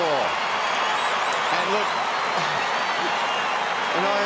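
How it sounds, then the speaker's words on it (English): A stadium crowd at an Australian football match between North Melbourne and Richmond in 2003 roars and applauds steadily in a dense wash of noise, while a commentator talks over it. "And listen to that roar."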